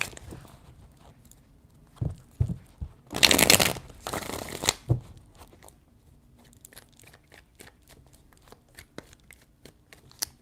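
Tarot cards shuffled by hand in a burst of dense riffling lasting about two seconds, with a few scattered taps and card handling before and after, close and fairly quiet.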